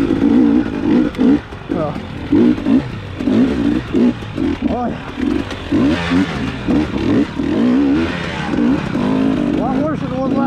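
A KTM 300XC two-stroke dirt bike revs and blips repeatedly while picking through a boulder field on a hard enduro trail, the engine loud and close with choppy on-off throttle bursts; a rider's brief exclamations come through over it.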